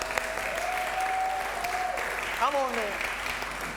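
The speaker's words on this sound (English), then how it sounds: "Give her a clap." An audience claps steadily as a performer comes up to sing, with the applause continuing under a voice and a few whistles or cheers.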